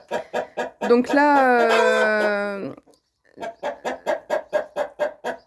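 A hen in a chicken coop clucks in a quick, regular series of sharp calls, broken by a long drawn-out squawk, near and loud, with a brief spoken word at the start.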